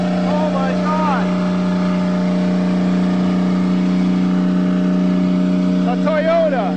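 An abandoned Toyota car that sat in a forest for seven years runs with a loud, steady engine drone, with short whooping pitch rises near the start and end as the engine revs.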